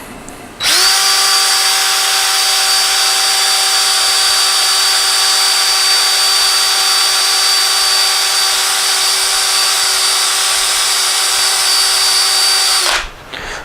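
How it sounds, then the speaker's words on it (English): A power drill used as an improvised lathe to turn down a bushing during a Porsche 912 engine rebuild, a loud, steady high-pitched whine that starts abruptly, holds for about twelve seconds and then cuts off, close and alone. "we're going to use a redneck lathe, and we're going to turn that thing down a little bit"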